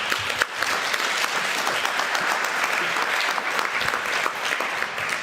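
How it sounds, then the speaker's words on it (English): Audience applause at a community conversation on public safety, a dense, steady round of clapping from a room full of people, lasting throughout with scattered sharper claps. "Please give a round of applause for that."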